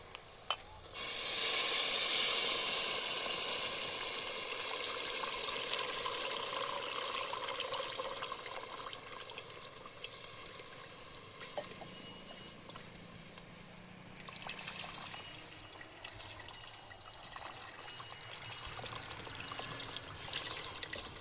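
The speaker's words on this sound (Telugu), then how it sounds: "ఇలా మొత్తం చింతపండు కొన్ని నీళ్ళు పోసుకున్నాం కదా" Tamarind water is poured into a fish curry of tomatoes, onions, chillies and curry leaves cooking in a pan, giving a loud rushing pour and bubbling hiss that fades into softer simmering sizzle and stirring clinks, with no talk.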